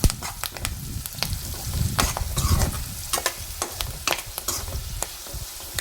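Tomato curry with turmeric sizzles and fries in a pan while being stirred, giving a continuous crackling hiss with scraping stir strokes throughout, close and steady.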